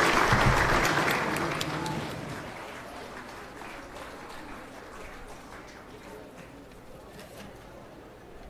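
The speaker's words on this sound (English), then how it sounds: "Come on guys, keep on clapping." Audience applause at a degree and diploma graduation ceremony, loud dense clapping at first that fades to a thinner, quieter patter of scattered hands as it continues, with murmuring voices in the hall.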